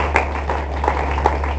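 Scattered clapping from a church congregation, a handful of hands striking irregularly over a steady low hum, moderately loud and without talk.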